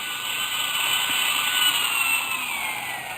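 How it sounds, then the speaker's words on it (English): Tiny drill boring a pinpoint hole in a glassy statue, a radio drama sound effect: a steady high whirring grind held for the whole stretch with no voices. "With a tiny drill, Schwartz bored an almost invisible pinpoint hole in one of the glassy folds of the dress"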